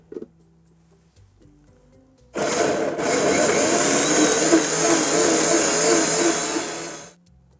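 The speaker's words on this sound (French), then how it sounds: "Et là, je vais mixer." A blender pureeing pea velouté soup with olive oil, a loud steady whirring roar that starts abruptly after a few faint kitchen clicks, runs for about five seconds, then winds down.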